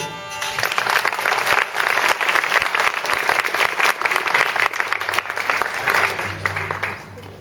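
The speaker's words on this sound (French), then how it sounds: "on va l'applaudir" A school audience applauds a children's choir soloist from a CM1–CM2 class, a dense, steady wash of clapping that fills the whole stretch at a strong, even level before easing off slightly at the end.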